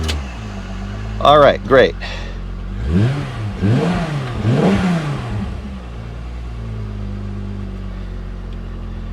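A VW Corrado VR6 on a stock ECU cranks and fires with two short bursts, then revs in three rising-and-falling swells before settling to a steady idle, close and fairly loud, with a brief spoken remark near the start.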